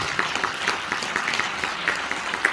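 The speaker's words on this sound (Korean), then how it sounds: "명진 스님께 큰 박수 좀 부탁드립니다." An audience at a public Buddhist peace dialogue event claps steadily, moderately loud and sustained throughout without pause.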